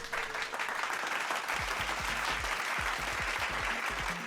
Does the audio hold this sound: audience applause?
yes